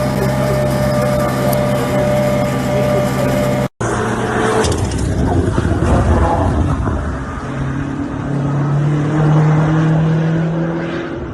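A race car engine warming up in the pits at the Nurburgring during a damp VLN race weekend, a loud steady idle with a deep hum, then a brief cut, then rougher revving with rising and falling engine tones close by.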